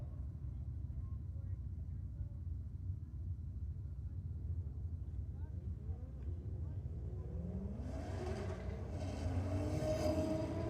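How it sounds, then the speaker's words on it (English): A Nissan Skyline and a Mitsubishi Lancer drag racing at a Sydney drag and burnouts night, a distant low engine rumble that swells as the cars rev and accelerate near the end. "Another Skyline in the Aeroflow lane this time, taking on the Lancer down there in the rocket lane"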